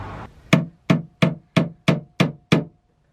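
A hammer drives in fasteners while security camera wires are being installed: seven sharp, evenly spaced blows, close and loud, after a brief shuffle, with no talking.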